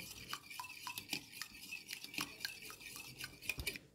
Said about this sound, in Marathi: आता हे खूप फेटून झालेलं आहे